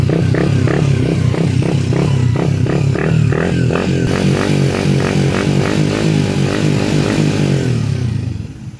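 A Raider 150 FI motorcycle fitted with a racing throttle position sensor, its engine revved hard up close, a loud rapid pulsing growl that climbs in pitch and holds high before dropping away at the end.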